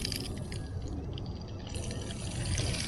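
Water runs steadily from a shower nozzle fed by a Roam Adventure water tank mounted on a vehicle bed rack, giving a continuous, fairly close hiss and patter with no talking.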